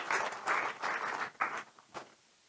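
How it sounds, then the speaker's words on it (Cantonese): A lecture audience claps to welcome a professor, a fairly faint, short burst of applause coming in a few surges that trail off within about two seconds. "我哋不如以最熱烈嘅掌聲有請李教授"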